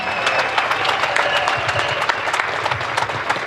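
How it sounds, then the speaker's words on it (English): Sustained applause from a crowd at a track event, dense steady clapping filling the whole stretch with a few louder claps standing out, no voices on top. "Give them another big round of applause"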